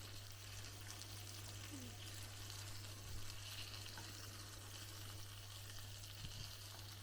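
Masala fish frying in an oil-filled pan, a steady low sizzle and crackle throughout with a couple of faint clinks, quiet and even, no speech heard.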